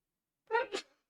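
A single close sneeze with a two-part burst, a sharp intake followed by a quick release. It sits alone in silence during a gaming voice chat.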